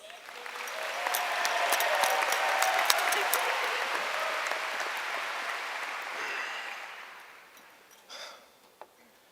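Audience applause at a high school graduation ceremony, sustained and full for several seconds before tapering off, with a few scattered claps and murmurs at the end.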